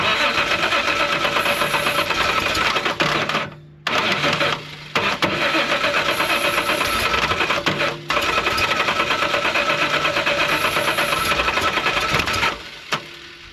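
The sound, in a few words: Reliant Scimitar GTE engine cranking, trying to start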